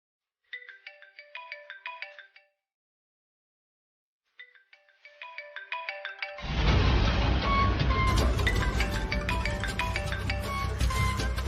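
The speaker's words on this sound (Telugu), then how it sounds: "ఇందాకటి నుండి ఫోన్ రింగ్ అవుతుంటే లిఫ్ట్ చేయట్లేదు." A phone ringtone rings for a video call: two short bursts of bright melodic chimes separated by a gap, then a fuller, louder musical ringtone with deep bass plays continuously to the end.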